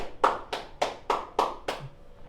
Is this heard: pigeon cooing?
no